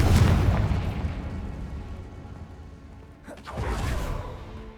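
Explosive spells cast in the video game Hogwarts Legacy: a loud booming blast at the start that rumbles and fades, then a second whooshing burst of explosions near the end.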